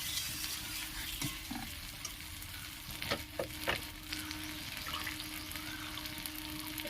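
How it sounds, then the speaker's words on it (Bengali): Water added to a pan of fried potatoes and pointed gourd: steady frying sizzle with a hiss and splash, then a few spoon scrapes and knocks against the pan, close and continuous. "এটা আমি একটু জল দিয়ে দিলাম"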